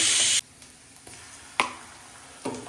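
Ginger garlic paste hits a hot frying pan with a loud burst of sizzling that quickly drops to a low, steady crackle, broken by a few sharp clicks and scrapes.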